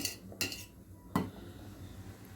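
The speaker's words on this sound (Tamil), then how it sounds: "அடி பிடிக்காமல் நம்ம அப்பப்போ கலந்து விட்டுக்கலாம்." A spoon stirs rice cooking in milk for Pongal and knocks twice against the pot, giving two bright metallic clinks over a low background hum.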